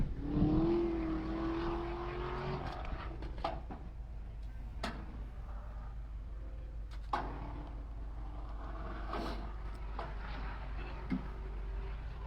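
A Porsche Panamera on the Gingerman race track is heard far off as a faint engine note rising in pitch, then fading under low background rumble with a few light ticks.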